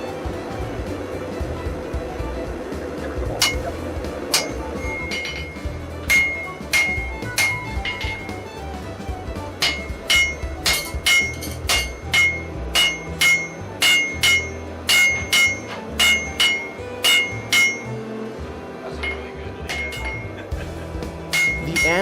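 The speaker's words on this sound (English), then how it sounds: "repeatedly heating the metal and hammering to spread out the material" A blacksmith hammers hot metal on an anvil: a long series of sharp ringing metallic strikes, sparse at first and then in quick steady rhythm, close and loud over low background noise.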